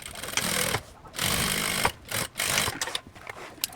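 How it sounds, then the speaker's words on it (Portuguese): A sewing machine runs a seam along the bottom of a backpack strap in several quick stitching bursts separated by short pauses. It is close and moderately loud, with no talking. "Eu vou passar uma costura aqui nessa parte de baixo."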